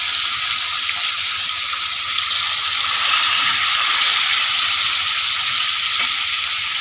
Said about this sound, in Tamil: பொறுமையாக ஒரு மீனாக நல்லா மசாலாவோடு சேர்த்து எண்ணெயில் சேர்த்து விடுங்க